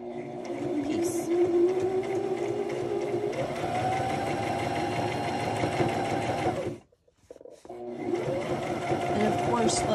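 A sewing machine runs steadily, stitching close to the edge of a handmade journal cover, its motor whirring for about seven seconds, stopping briefly, then starting up again.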